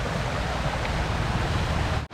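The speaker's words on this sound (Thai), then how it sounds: "บรรยากาศที่แบบมีลำธารไหลผ่านหมู่บ้านไหลผ่านบ้านแบบเนี้ย" A stream flows through Mae Lai village in Chiang Mai, Thailand, making a steady, close, broadband rush of water that continues throughout and cuts off abruptly at the very end.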